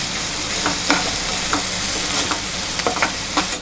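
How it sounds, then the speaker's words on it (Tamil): Onions and green chillies sizzle in a hot pan with a little salt and turmeric, a loud steady frying hiss broken by repeated stirring scrapes, with no talking. "நல்லா வதக்கி விடுங்க. தீயக்கூடாது,"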